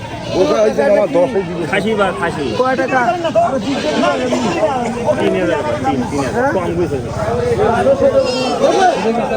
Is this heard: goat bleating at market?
yes